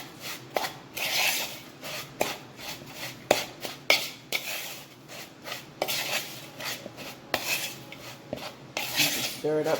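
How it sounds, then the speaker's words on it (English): Butter and baked apple topping with vanilla being stirred in a bowl, a steady run of scraping, rubbing clinks of a utensil against the bowl, close and fairly loud with no talk. "Stir it up good"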